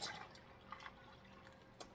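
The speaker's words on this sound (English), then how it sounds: "gradually pour in a little bit of water to cool that off" Water is poured into dissolved sugar for sweet tea, making a steady liquid splash and trickle with a few small drips, close and fairly quiet, with nothing else over it.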